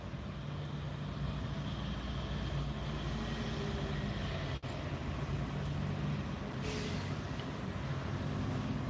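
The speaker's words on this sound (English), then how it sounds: "Here comes the cement mixer." A cement mixer truck rolls past on a busy road, a steady loud rumble of engine and traffic filling the whole stretch, with a brief air-brake hiss near the end.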